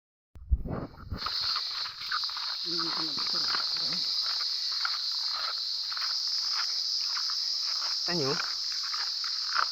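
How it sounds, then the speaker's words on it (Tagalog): A dense, continuous high-pitched chirring of crickets in an indigenous Mangyan community runs steadily throughout, with a few brief rustles and low sounds early on. "mga kuliglig ang ating maririnig"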